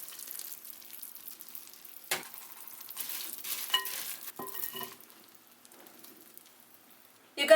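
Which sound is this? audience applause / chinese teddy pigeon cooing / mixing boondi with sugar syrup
mixing boondi with sugar syrup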